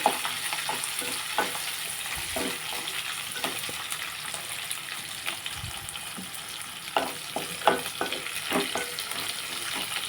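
Curry with two green chilies frying in a pan, a steady soft sizzle with occasional scrapes and clinks of stirring, fairly faint and close, with no voices.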